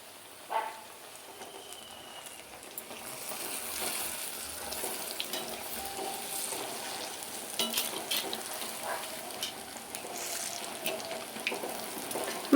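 Banana fritters (pazhampori) frying in hot oil, a steady close sizzle and hiss with a brief knock near the start and no talking.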